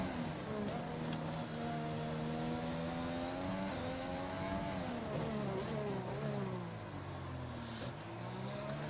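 A Red Bull Formula 1 car's engine screams through a flying lap at Melbourne in an F1 video game on intermediate tyres. The loud, steady high-pitched whine climbs and dips through gear changes and braking, with faint commentary underneath.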